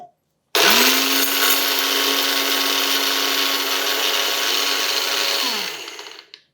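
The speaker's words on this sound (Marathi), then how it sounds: "हे बघा, असं छान बारीक दळलं गेलं पाहिजे." A kitchen mixer grinder grinds roasted spices and black pepper into a fine masala for mango pickle, a loud, steady whirring whine that starts abruptly, runs about five seconds and winds down.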